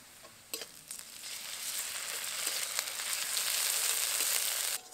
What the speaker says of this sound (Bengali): এই তেলের মধ্যেই দিয়ে দেবো কালো জিরে, এবার দেবো পেঁয়াজ কুচি। পেঁয়াজটা হালকা করে ভেজে নিয়েছি, এখন এর মধ্যে দিয়ে দেবো আদা রসুন বাটা।